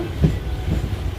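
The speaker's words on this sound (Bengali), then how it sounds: "আমাদের ট্রেন ছেড়েও দিল" A departing train rumbles along with a low rolling drone and faint rhythmic clatter, steady and fairly close, with no voices.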